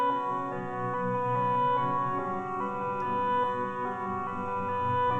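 A sustained synth melody drifts over thick layered pads and steady low tones, holding a smooth, full texture without any voices.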